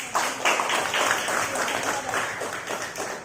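A classroom of students claps together in a burst of applause that stays dense and lively throughout, fading a little toward the end.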